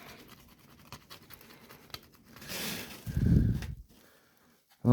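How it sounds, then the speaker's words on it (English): A tool scrapes caked dirt off the metal nameplate of an R A Lister engine in the open, giving short close scratchy strokes, then a louder rough rasp, with brief pauses between. "let's scrape all the shit away"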